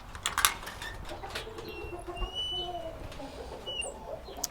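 Several chickens of mixed breeds in a farm barn cluck and murmur softly at a distance, with a few brief higher chirps over a steady low background hum.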